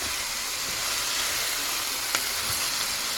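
Curry cabbage and corned beef brisket fry in a pan with a steady, close, broadband sizzle and hiss that holds evenly for the whole stretch, with no talking.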